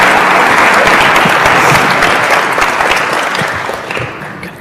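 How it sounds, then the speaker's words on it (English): A conference audience claps loudly and steadily for a few seconds, then the applause slowly thins and fades toward the end. "Let's give a giant round of applause to Dr. Beldwick and Renee Wynn."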